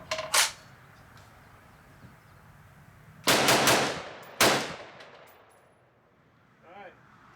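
An AR-15 rifle fired outdoors while running through a magazine with a feed problem: one close loud shot, then a tight cluster of rapid shots and another single report, each ringing out before quiet.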